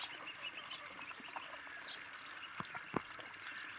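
Young ducklings splash in a pool, with soft water sloshing, faint peeping and a few sharp splashes, all of it fairly quiet and close.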